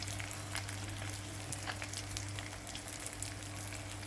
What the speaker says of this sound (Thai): วันนี้เรามีปลาทูทอดจ้า